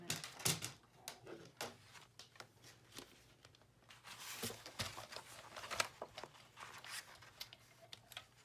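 Paper being trimmed by hand for a journal makes quiet, close crisp snips and rustles. They come in short irregular bursts with soft pauses between them.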